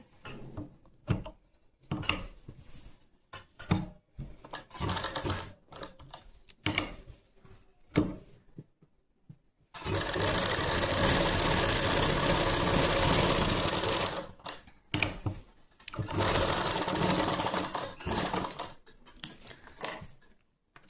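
A sewing machine stitches a pocket onto palazzo pants in short bursts of rapid mechanical chatter, then a longer sustained run of stitching, with quiet handling noises in the pauses.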